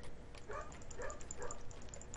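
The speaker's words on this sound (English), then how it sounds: "As a doggy barks in the background." Dog barking in the Minecraft video game, a few soft repeated barks spaced about half a second apart, faint in the background under game sounds.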